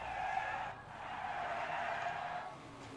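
Tires screech as a stock car spins out and skids during a Daytona 500 race in the NASCAR 21: Ignition video game, a sustained loud squeal with engine roar that dips briefly, then continues.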